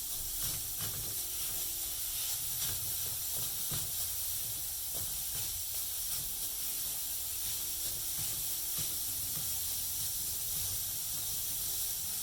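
Grated carrots pan frying over low heat, a continuous sizzling hiss with scattered clicking and rattling from stirring and background clatter, steady and moderately close.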